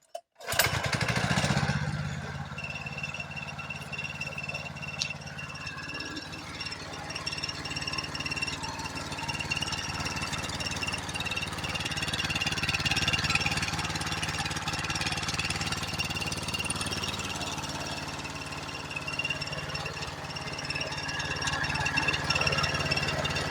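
A small engine with an idling issue sputters to life and then runs at a steady, rattling idle, close and continuous throughout.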